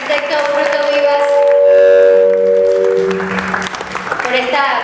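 Audience applause at the close of an architecture lecture, a dense, steady clatter of clapping from a crowd in a hall, with a voice speaking over it part of the way through.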